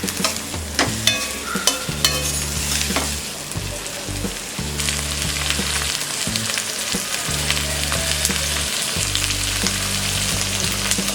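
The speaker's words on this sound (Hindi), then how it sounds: "सब्जियों को हम हाई फ्लेम में फ्राई करेंगे।" Vegetables, including capsicum, fry on high flame on a tawa for Mumbai-style tawa pulao: a constant bright sizzle with repeated scraping and clanking of a spatula stirring against the metal.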